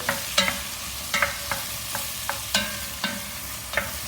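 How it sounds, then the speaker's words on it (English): Asparagus sautés with onions and ginger in a hot pan, giving a steady sizzle broken by about ten sharp scraping stir strokes at an even rhythm, close and fairly loud, with no talking. "I will add straight away the asparagus. We saute that a little bit"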